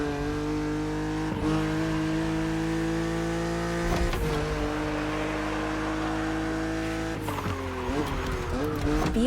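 A BMW Z roadster racing against an aggressive opponent in the video game The Crew Motorfest, its engine droning steadily with pitch shifts through gear changes and some tire noise, loud and continuous throughout.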